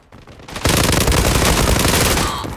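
Sustained rapid gunfire erupts after a brief quieter lead-in, loud and dense, like automatic weapons firing continuously in a game.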